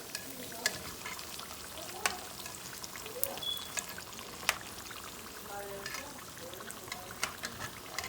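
Philly cheese steak and chicken egg rolls frying in hot oil, a steady close sizzle with scattered pops and crackles running throughout, faint voices in the background.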